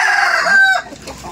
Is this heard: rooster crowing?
yes